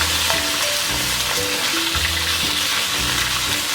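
Turkey legs fry and brown in a pan for a brown turkey stew, giving a steady, close sizzle that stays even throughout, with no talk over it.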